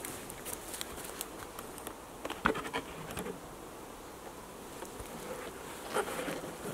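Honeybees at a hive being opened by a beekeeper give a faint, steady buzz, with scattered clicks and bumps and a couple of brief louder knocks.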